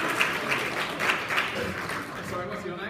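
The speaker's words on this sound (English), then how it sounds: "Let's give him a round of applause." A lecture-hall audience claps for a volunteer at a physics lecture, producing a steady wash of applause that lasts the whole moment while a voice talks over it.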